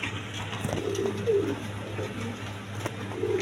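Gentle, low cooing comes from a pair of Mosaldam pigeons in a few soft phrases, faint against a persistent low hum and background noise.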